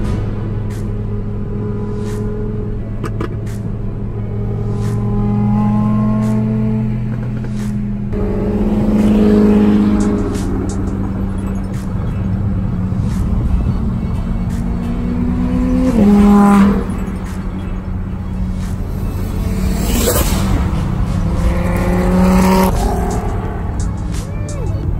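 A 2019 RAM 1500 HEMI pickup truck drives off at the start of a cruise, its low engine drone steady and close throughout, with gear shifts and brief rises in revs, and people talk over it.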